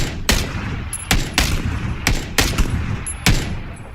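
Sharp gunshots in a shooter video game ring out loud and near, spaced roughly every half second to second in a steady sequence of single cracks, with no talk over them.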